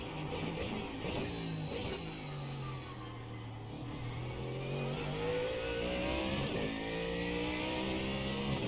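GTP prototype race car engine in the iRacing sim at Sebring, a steady loud drone with rising and falling pitch sweeps as it revs through gears, continuous throughout with no talk.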